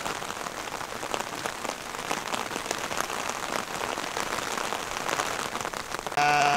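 Steady, dense rain pours down in the Retezat mountains of Romania during a stormy day of driving sheep uphill, a constant hiss of drops on surfaces with no letup and no voices.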